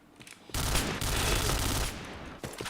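A sudden sustained burst of automatic gunfire in a shooter video game, loud and close, running for over a second before cutting off, then a few shorter shots.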